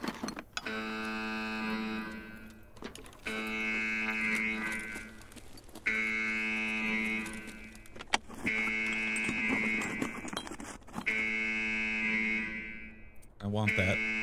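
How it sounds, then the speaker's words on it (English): In the video game Escape From Tarkov, a harsh electronic buzzer drones in long, loud, repeated blasts of a second or two each, separated by brief gaps, with a voice talking faintly underneath. "The most annoying buzzer in the world"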